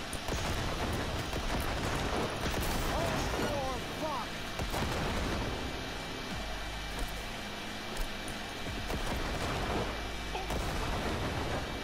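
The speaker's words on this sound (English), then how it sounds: "Grenade barrage, grenade barrage, grenade barrage." Explosions from a barrage of grenades in Cyberpunk 2077, a continuous loud rumbling wash of blasts and gunfire-like cracks throughout, with someone talking over the din.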